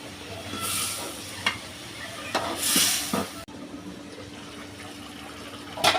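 Pieces of mose fish frying in a pan, sizzling steadily at close range with a few clinks and bursts of louder spattering as they are turned.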